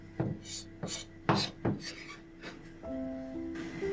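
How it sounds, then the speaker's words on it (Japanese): Knife finely chopping spring cabbage on a board: a series of crisp, separate cuts at an uneven pace, close and fairly quiet, followed by a soft tonal hum. "春キャベツは細かくみじん切りにしボウルに入れる"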